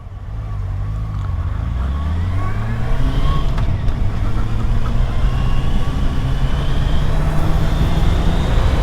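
A BMW racing motorcycle engine accelerating, its loud rising whine climbing steadily in pitch through successive gears, close and continuous with no talking.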